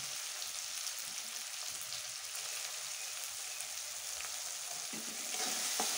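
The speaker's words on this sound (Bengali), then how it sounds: "একটু ভালো করে কষিয়ে নেব।" Chopped tomatoes with salt sizzle and sputter softly in a pan for dhaba-style chana aloo ghugni, a steady low crackle throughout with occasional faint stirring scrapes.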